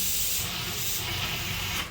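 Steady close hiss of a pressure cooker venting steam while mangoes boil inside, a continuous broadband rush that holds for the whole stretch with no voices over it.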